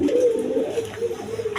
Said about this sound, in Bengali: এখানে এক জোড়া ইন্ডিয়ান বোম্বাই কবুতর আছে, রেড কালারের মধ্যে দেখেন